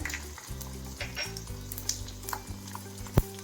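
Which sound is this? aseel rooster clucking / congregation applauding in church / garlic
garlic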